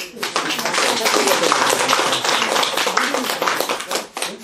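Sustained clapping from an audience at a meditation lecture in a Seoul meditation centre, steady and fairly loud across the whole stretch.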